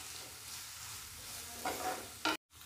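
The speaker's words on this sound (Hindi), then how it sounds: "और हरी मिर्ची और प्याज को लहसुन को भी अच्छे से सेक लेंगे" Onion, green chilli and garlic sautéing in a pan, a soft continuous sizzle with light stirring scrapes, a couple of louder clatters near the end, then a brief cut to silence.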